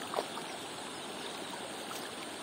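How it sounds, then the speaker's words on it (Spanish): The Quilate river near Misantla flows in a steady, broadband rushing stream at close range, an even wash of water with no talk over it. "Este es el río Quilate."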